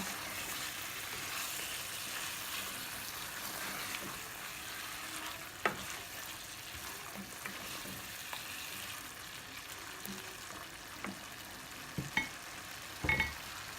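Boiled eggs being stirred into masala frying in a pan for egg bhuna: a steady, quiet sizzle continues throughout, broken by occasional soft scrapes and knocks of the spoon.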